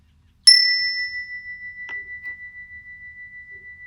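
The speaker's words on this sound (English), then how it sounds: "when I ring the chime, let's start by simply listening" A meditation chime is struck once and rings out in a clear, pure tone that slowly fades away. A faint second tap follows partway through, and the setting is otherwise silent.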